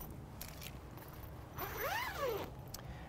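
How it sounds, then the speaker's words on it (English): A zipper runs down on a fabric cover inside a 2020 Winnebago Boldt 70BL RV, giving a short rasping pull of nearly a second over a steady, quiet background hum. "This unit actually zips down."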